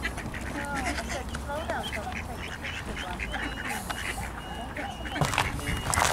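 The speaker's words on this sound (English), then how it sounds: "Feeding the ducks." Ducks quack repeatedly at a pond at Pennington Flash during feeding, a busy overlapping chorus of calls with people talking nearby and outdoor background noise.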